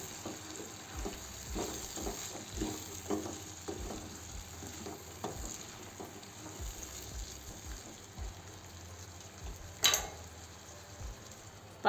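Chopped capsicum frying and being stirred in a pan on low heat, a soft steady sizzle with faint scraping stir strokes, quiet and close, no talk.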